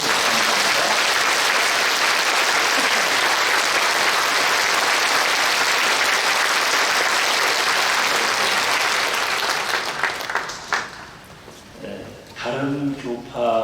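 Sustained congregational applause for a pastor at a Korean church commemorative worship service in a large church, dense and loud for about ten seconds before thinning into scattered claps and murmuring voices.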